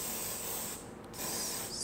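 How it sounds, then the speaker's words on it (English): Short bursts of aerosol hairspray hiss close by, a steady spray that pauses briefly and resumes, with no voices. "just go close to the curls and just spray them so that they remain like that"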